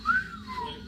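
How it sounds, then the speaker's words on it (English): A single short whistle tone, loud and shrill, rises then glides downward in under a second, sounding like a person whistling rather than a blown whistle. "Jan ran up to the top of the hill and blew his whistle,"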